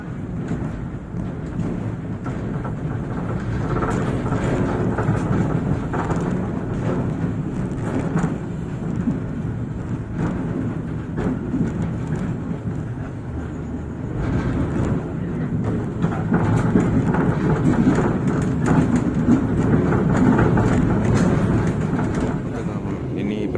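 KA Motis train rolling on rails as it nears Cilegon station, a continuous low rumble and rattle heard from on board, swelling toward the end.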